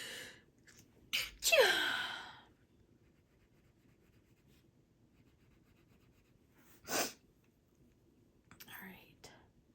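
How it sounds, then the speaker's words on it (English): A single sharp sneeze bursts out near the microphone early on, a breathy inhale rising into a loud explosive release, followed by quiet room noise and a couple of softer breaths or sniffs later. "I'm gonna sneeze."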